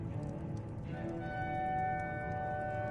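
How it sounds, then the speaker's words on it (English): Nirnroot plant in the video game Skyrim chiming, a sustained ringing tone that swells and holds steady over soft ambient game background. "It grows only by the water and makes a unique chiming noise."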